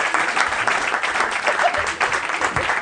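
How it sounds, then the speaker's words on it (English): Audience applause for comedian Doug Smith at a live comedy show: dense, steady clapping from a crowd filling the whole stretch, fairly loud and close, with some voices mixed in. "Everybody, big round of applause for my buddy Doug Smith."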